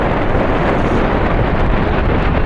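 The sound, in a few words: strong wind blowing on the microphone at a ghat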